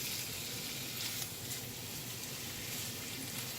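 Onions sizzle in butter in a skillet as a soft, steady hiss and crackle that holds evenly throughout, quiet and without any talking.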